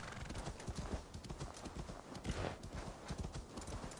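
A horse's hooves clip-clop in Assassin's Creed Valhalla, a quick, steady run of close, distinct hoofbeats that keeps up throughout at fairly low volume, without talk over it.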